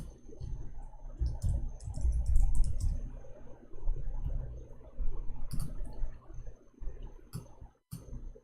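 Computer keyboard keys clicked and tapped in short irregular bursts, fairly faint and close, over a low background hum with no speech.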